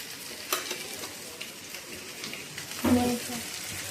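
A sabudana mixture is stirred in a pan with a steady scraping and faint sizzle, with a brief louder clatter near the end.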